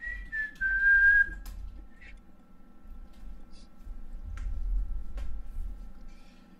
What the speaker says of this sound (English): I hate it when people whistle.